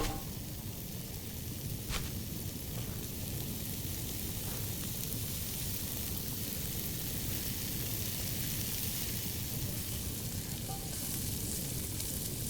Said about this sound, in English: Once the leeks have been added, give it more of a stir because you want the leeks to be also covered in butter